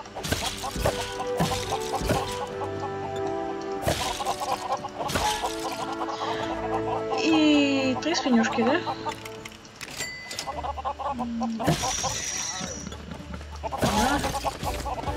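Cartoonish chickens cluck in the LEGO Worlds video game among several clucks and pig sounds, set against busy game music and effects, with a voice briefly speaking.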